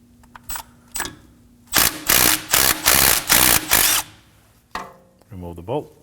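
A 12mm socket on a ratchet drives out a bracket bolt during front brake hose work on a 2014-2020 Acura MDX, heard as several rapid whirring bursts up close, followed by a brief voice.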